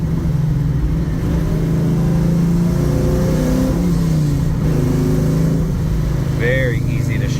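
A 1969 Chevrolet Camaro Z28 clone is driven on the road, its engine droning steadily and loudly with shifting pitch as it pulls along, and someone talks over it.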